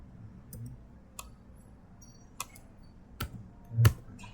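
Sparse, soft key clicks from a computer keyboard while entering a command in a terminal, isolated taps spaced irregularly over a quiet room background.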